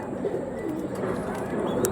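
Kalshira pigeons coo softly and repeatedly at close range over a steady murmur of background noise, with a faint voice now and then.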